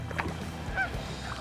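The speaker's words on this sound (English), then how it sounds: "Maybe that's what the geese are telling me" A couple of goose honks sound at a moderate distance over a steady low rumble of outdoor background noise.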